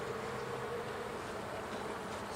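Honeybees drone steadily throughout a queenless-hive inspection, a dense continuous hum close by with no voices over it.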